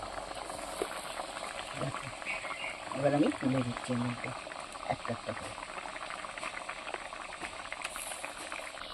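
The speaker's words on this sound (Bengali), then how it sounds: "ঝালটা আমার ফুটে গেছে" Spicy gravy boiling in a pan, a steady close bubbling simmer running throughout while a person talks over it.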